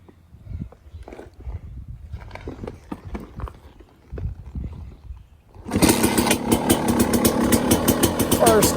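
A 2002 Kawasaki KX 250 two-stroke dirt bike is kicked over and fires on the first kick, shifting from quiet scuffing and shuffling to a loud, raspy, revving engine that stays close and constant.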